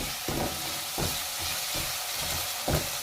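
Half a spoon of red chili crackles and sizzles in hot oil in a pan while cooking mixed saag, with a continuous frying hiss broken by a few soft stirring scrapes.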